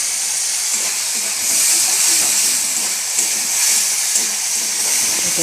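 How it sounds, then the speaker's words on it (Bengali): A ginger, tomato and onion paste with green chillies sizzles in a pan, a continuous close hiss that swells and eases without speech. "এটা একটু ভালো করে ভেজে নিই।"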